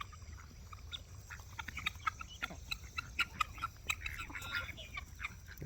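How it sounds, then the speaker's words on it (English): Chickens on a homestead farmyard, mixed with ducks and guinea birds, give faint scattered clucks and short calls at a moderate distance, with no talking. "Look at those chickies."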